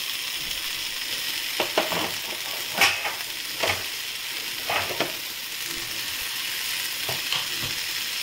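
Carrots and boiled sweet corn fry in a pan with potato and salt for a sweet corn tomato salsa. A steady, close sizzle runs throughout, broken by several brief scraping stirs. No one speaks.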